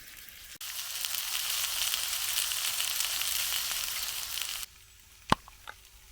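Onions fry in a pan at an outdoor woodland camp with a steady loud sizzle that cuts off suddenly, followed by quiet and a couple of sharp knocks.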